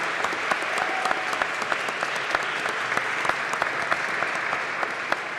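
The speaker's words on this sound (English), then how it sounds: "So one more little round of applause for the kids." Warm, sustained applause from the audience at a county board of education meeting for students, even and continuous with scattered sharper claps.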